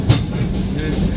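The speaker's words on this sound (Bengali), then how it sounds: "ট্রেনটি প্রবেশ করলো পোড়াদা জংশনে" The Madhumati Express rolls into Poradah junction in the evening, a steady rumble of rail wagons with faint clickety-clack heard from nearby, continuous and even throughout.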